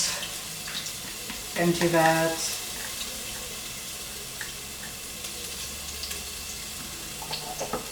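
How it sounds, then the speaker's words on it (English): Ingredients and their juices are emptied into a hot pan with garlic while making chicken orzo, giving a brief splashing sizzle burst near the start that settles into a steady low frying hiss. "Just empty all of that with its juices"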